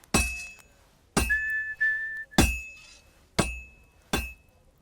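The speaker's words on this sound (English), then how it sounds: "I know the whistling has something to do with it" Blacksmith hammering metal at a forge in Kingdom Come: Deliverance 2, with five sharp, ringing hammer strikes spaced about a second apart, and a thin whistling tone sounding between some of the blows.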